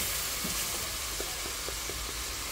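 Chicken seasoned with salt frying in a pan, giving a dense, even sizzle with faint scattered ticks, close and continuous with no voices.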